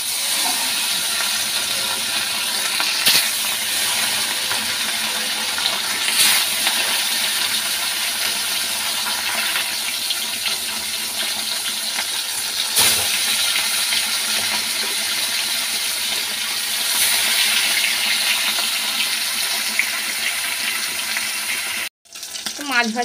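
Catla fish pieces are dropped one by one into very hot oil in a wok, giving a loud, steady frying sizzle with occasional sharp pops. The sizzle cuts out briefly near the end.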